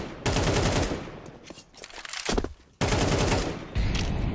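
Close automatic rifle spray in a Counter-Strike 2 esports match, sustained bursts of rapid shots broken by brief gaps and sharp cutoffs, loud and dense.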